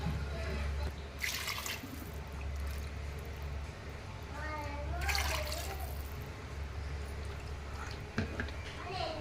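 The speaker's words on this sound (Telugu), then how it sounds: "3 కప్పులు రైస్కి నేను 6 కప్పులు వాటర్ వేస్తున్నాను" Six cups of water are poured into a pot of rice in a few separate splashing bursts, with a person talking throughout.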